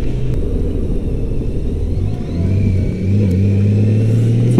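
A Honda Goldwing GL1800 motorcycle engine rumbles steadily under riding wind noise, its low drone rising in pitch as the rider adds throttle partway through.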